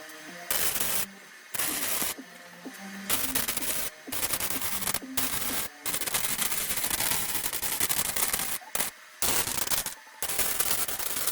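Welding a part for a 1985 Kawasaki Bayou 185 ATV, a harsh crackling buzz that cuts in and out in repeated bursts of a second or two, separated by brief silent gaps.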